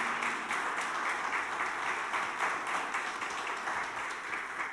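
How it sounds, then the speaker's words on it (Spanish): Church congregation applauding, a steady dense wash of clapping that holds evenly from start to finish without letup. "Dale un aplauso al Señor"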